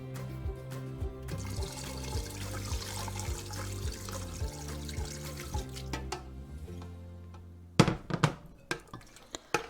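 Water pours steadily into a pot for a bean soup, a continuous filling gurgle with shifting pitch for several seconds, then the flow cuts off, leaving a few clinks and knocks.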